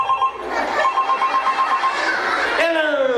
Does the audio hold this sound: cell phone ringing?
yes